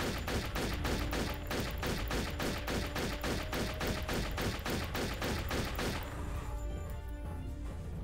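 Rapid bursts of weapon fire in the first-person shooter Turok 3, a fast, even run of loud cracks for about six seconds, then breaking off into a quieter tail.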